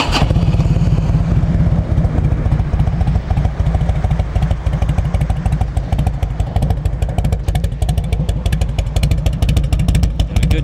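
A carbureted Harley-Davidson Road King FLHR motorcycle engine idling loud and close, a steady rapid lumpy thump with mechanical clatter that holds throughout with no talk.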